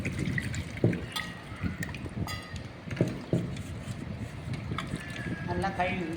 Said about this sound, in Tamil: இப்போ நம்ம இதெல்லாம் தண்ணி ஊற்றி